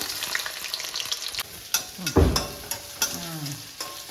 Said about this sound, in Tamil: இது எல்லாத்தையுமே இப்போ நம்ம நல்லெண்ணெயில் ஊற்றி தாளிக்க வேண்டியதுதாங்க